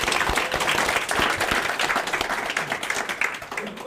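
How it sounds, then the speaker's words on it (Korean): An audience at a political talk concert for a Busan education superintendent campaign claps in a dense, steady burst of applause from a crowd of many hands, lasting several seconds. "다시 한번 큰 박수 한번 보내주십시오."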